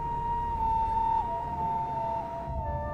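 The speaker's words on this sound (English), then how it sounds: "we could hear the drilling of machines and the sirens from the ambulances" Ambulance sirens wail steadily and loud at the scene of a collapsed building after an earthquake, several overlapping tones sliding in pitch against a constant rumble of machinery.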